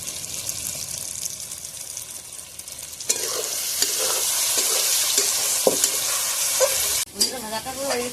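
Rohu fish innards frying with onion only, no garlic, in a pan: a steady close sizzle that swells louder partway through as the pan is stirred, with brief clatters and scrapes, then a short break and renewed frying.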